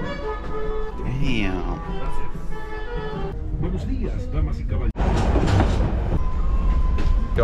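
A train near Lake Titicaca rumbles steadily up close while passengers board, with clattering and a whining tone, while people talk over it.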